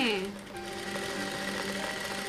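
Sewing machine running a dummy stitch on marked blouse sleeves, a steady mechanical whirr with a faint rhythmic pulse, close and continuous over the whole stretch while a voice talks.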